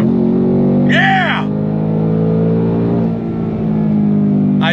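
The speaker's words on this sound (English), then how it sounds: "the Coyote engine has never sounded better with this Tremec" 2024 Ford Mustang Dark Horse with its Coyote V8 and Tremec manual gearbox pulling on throttle from a dead stop, a loud steady low engine drone heard from inside, with a voice shouting over it and another brief exclamation at the end.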